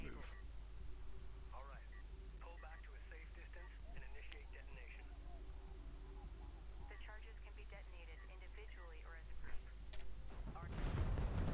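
A video-game explosion at the Kalash Wreck in the Beladin Dune Sea erupts as a loud, broad roaring burst near the end, after a long stretch of people talking over game sounds.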